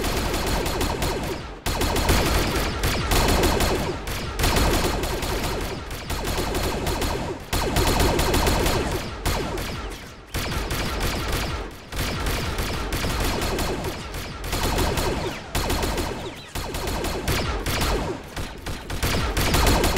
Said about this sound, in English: So much firing, so few casualties.